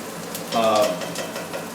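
Patties frying in oil in a pan give off a soft, steady sizzling hiss, with a person talking briefly over it midway.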